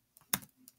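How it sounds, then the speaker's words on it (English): A few quick clicks of typing on a computer keyboard while writing code in Emacs, soft and close, with one sharper key press in the middle and no talk. "We'll just type code and hit a tab."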